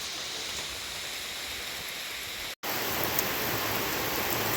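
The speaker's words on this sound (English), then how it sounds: "right now it is raining fairly hard" Steady, fairly hard rain drums on a trail shelter during a Long Trail thru-hike, a dense continuous hiss with one abrupt momentary dropout midway.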